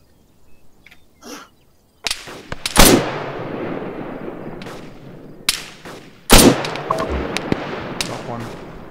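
Gunfire in the military shooter Arma 3: sharp, loud cracks at close range, a few single shots followed by heavier blasts and scattered reports with rolling echo tails, after some quiet faint sounds at the start.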